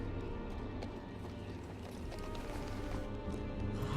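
Horse hooves clip-clop at a gate by a great wall, a steady run of hoof strikes fairly close amid busy background noise, with faint voices in the mix.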